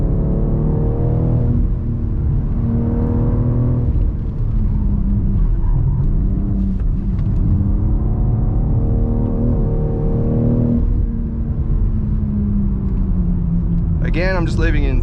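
A 2023 BMW X4 M Competition's engine pulls hard in fourth gear, a loud continuous rumbling drone with rising pitch sweeps as the car accelerates out of corners, with a voice briefly heard at the end.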